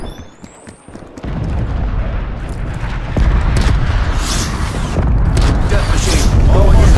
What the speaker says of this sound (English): Using hand cannon.